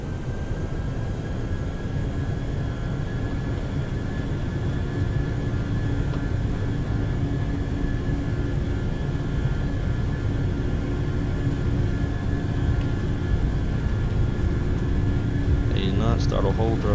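Aircraft jet engines spool up for takeoff in a steady, continuous roar that builds slightly, with faint voices underneath.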